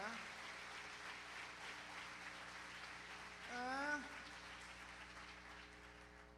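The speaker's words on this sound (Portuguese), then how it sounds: "aplauda Jesus aí" Faint applause from a church congregation at an evangelical service, a soft diffuse patter of hands under a droning hum, with a voice briefly rising over it midway.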